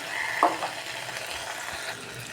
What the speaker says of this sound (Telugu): ఇప్పుడు ఈ మష్రూమ్ని కూడా బాగా వేపుకుందాము